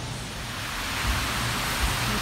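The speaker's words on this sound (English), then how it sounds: "it is officially raining" Steady rain heard from inside a car on Wisconsin Avenue, a dense broadband hiss that holds constant, with a couple of faint low thumps and no talking.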